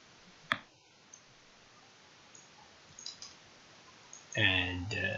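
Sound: mouse clicking a button in a Delphi application

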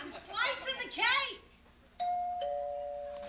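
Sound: doorbell ringing

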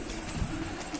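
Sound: high flyer pigeons cooing

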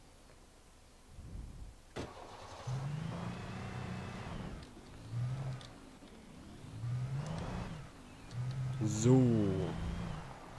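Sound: car driving in Alan Wake video game

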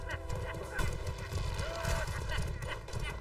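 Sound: horse galloping and neighing in the video game Mordhau

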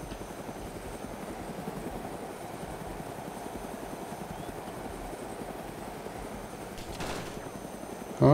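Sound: helicopter and gunfire in the video game Arma 2 DayZ

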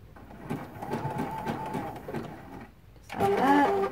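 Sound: sewing machine sewing back stitches on quilt

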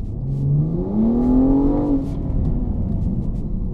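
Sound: turbo inline-six car engine revving

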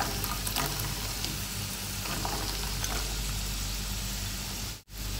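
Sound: diced onions sautéing in a pan for beef stuffed idli

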